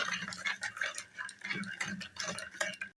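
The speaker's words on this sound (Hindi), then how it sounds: "तो शुगर डालकर आपने पहले इस तरीके से आपने अच्छे से हल कर लेना है" A spoon stirs sugar into a bowl to dissolve it for fruit chaat, making quick, repeated light clinks and scrapes against the dish in an uneven rhythm, close up and fairly quiet.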